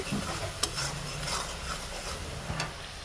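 A turmeric and chili spice paste being stir-fried in a pan, a faint sizzle under soft scraping strokes of a spatula with a couple of light clicks, quiet and close, no speech.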